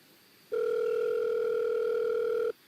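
A steady telephone dial tone sounds alone, loud and continuous for about two seconds, then cuts off abruptly.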